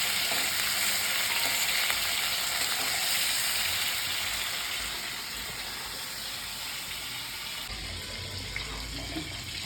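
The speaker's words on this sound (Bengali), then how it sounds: "একদম আমি হালকা করে ভাজছি, খুব বেশি কড়া করে ভাজলে এই মালাইকারির স্বাদ ভালো হবে না।" Prawns frying lightly in hot oil for a Bengali malai curry, a continuous dense sizzle that stays loud and close throughout, easing slightly partway through.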